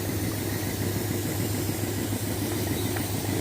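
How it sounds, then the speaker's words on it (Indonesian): A waste shredder machine engine runs at a steady idle, a close, constant low rumble with mechanical vibration and no pauses. "mesin penyacah sampah"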